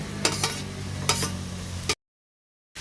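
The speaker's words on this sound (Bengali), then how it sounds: "এবার আমি থেতো করা রসুনটা দিয়ে দিচ্ছি, সাথে দিয়ে দিচ্ছি টমেটো কুচি আর কাঁচা লঙ্কা কুচিটাও দিয়ে দিচ্ছি" Crushed garlic, chopped tomato and green chilli go into frying onions, a steady sizzle broken by a few clattering scrapes and knocks of a spoon, then a short total silence before the sizzle returns.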